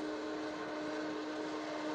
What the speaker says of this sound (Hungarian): Miért volt ez a vonat hang?